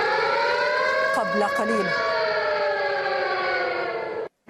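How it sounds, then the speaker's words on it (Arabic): Air raid sirens wail over Tel Aviv during rocket fire from Gaza, a loud, sustained, rising-and-falling tone with rich harmonics, briefly overlapped by a voice before cutting off near the end. "هذه الرشقات التي ترافقت مع دويلي صفارات الإنذار"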